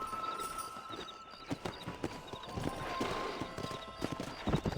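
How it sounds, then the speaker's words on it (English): Hooves clip-clop at a quick, steady pace as a horse moves in Red Dead Redemption, with a brief neigh and game ambience underneath at moderate level. "Monte no seu cavalo."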